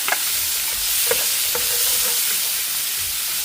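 Onion and garlic hit a hot pan for a garlic green bean stir fry, giving a bright, dense sizzle up close with a few soft spoon knocks and stirs, no voices.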